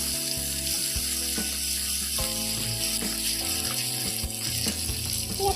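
Mustard paste added to a fish curry in a pan, a steady close sizzle and bubbling fry running throughout with faint clinks from the pan.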